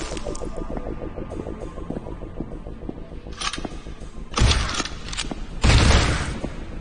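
Gunfire in the video game This Strange Realm of Mine, with two loud broadband blasts standing out over a busy mechanical game soundscape with whirring fans and clicking.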